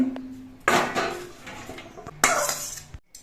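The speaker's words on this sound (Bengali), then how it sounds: "আমি কড়াইয়ের ঢাকনাটা খুলে নিচ্ছি" A metal lid lifted off a kadai of boiled banana stem, with two sharp clattering bursts of metal on metal and brief rattling in a quiet kitchen.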